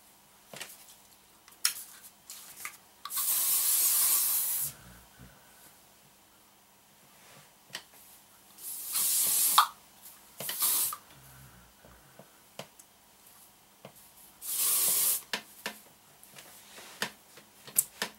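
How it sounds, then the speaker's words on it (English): Hairspray is sprayed onto short, hot-roller curled hair in four separate hissing bursts, each lasting one to two seconds, close and clear amid quiet handling noises. "Okay, so I'm going to put a little bit of spray in."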